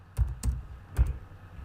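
A few quick keystrokes on a computer keyboard, soft clicky taps at close range in a quiet room.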